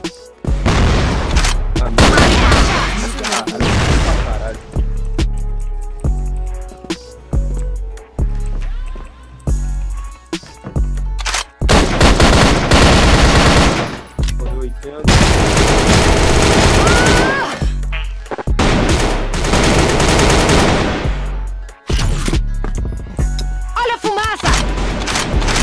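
Gunfire in a competitive Valorant-style shooter match, with bursts of rapid automatic fire and heavy booms loud and close, broken by short pauses while players talk over it.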